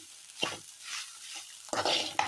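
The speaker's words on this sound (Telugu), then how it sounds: "ఇలా ఫ్రై అవుతున్న దానిలో ఒక స్పూన్ సాల్ట్ వేస్తున్నాను." Broad beans and coconut fry in a pan, with a close sizzle and several sharp stirring scrapes in quick bursts, no voices.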